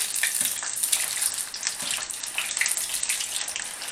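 Onions, sliced pepper and battered chicken deep frying in hot oil give off a steady, dense sizzle and bubbling crackle that runs without pause, close and moderately loud, with no voices.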